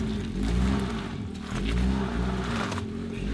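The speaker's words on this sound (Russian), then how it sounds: "И полноприводная тачка просто не хочет ехать." An all-wheel-drive car stuck on slippery wet clay, its engine revving in repeated rising and falling surges close by, with no voices.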